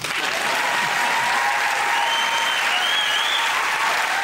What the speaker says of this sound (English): Now clap or leave.